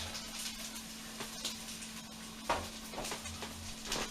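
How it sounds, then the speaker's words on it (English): Onions dropped into a pan of hot fat and bacon for a chili stew, giving a steady soft sizzle with a few brief clinks and stirring knocks, moderately close. "So the onions are going to go in."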